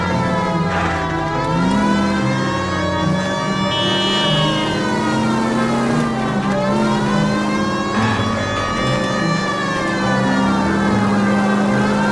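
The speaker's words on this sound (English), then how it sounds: "Police car and I have my siren blaring." A continuous wailing police car siren in the video game L.A. Noire rises and falls over a steady engine hum, loud and close, with no talking.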